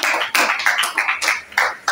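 An audience at a radio debate in Kinshasa applauds, with uneven bursts of close, sharp clapping that rise and fall in quick pulses over two seconds.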